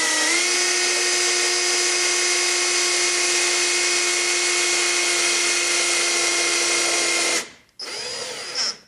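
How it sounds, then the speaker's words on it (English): A hole saw bores through plywood while an electrical receptacle is wired into an RV, giving a loud, steady whine with strong harmonics for about seven seconds, then a brief stop and a short restart. "So just drill that hole through."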